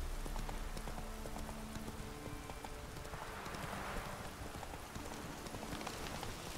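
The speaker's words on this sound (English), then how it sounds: "Mount the horse." Horse hooves clip-clop in a steady rhythm in The Witcher 3: Wild Hunt, over a constant hiss like falling rain, with no talking.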